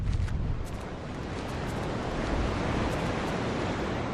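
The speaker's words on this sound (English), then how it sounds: "I hear the ocean." Ocean surf washes in a broad, continuous roar in the video game The Last Door, a wave swelling and rushing steadily without pause or voices.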